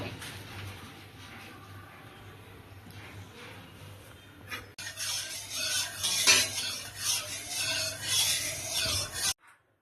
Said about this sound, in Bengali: এখন সরষের তেল দিয়ে আগে বড়ি ভেজে নেব